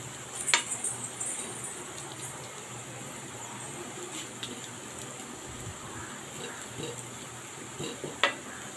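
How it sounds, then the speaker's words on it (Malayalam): Onions and carrots sizzle softly in a pan while a spoon stirs them, a low steady frying hiss broken by a few sharp scrapes and taps of the utensil against the metal. "അതാണ് ഞാൻ ഇങ്ങനെ തരുതരി ഇളക്കിക്കൊണ്ടിരിക്കുന്നത്."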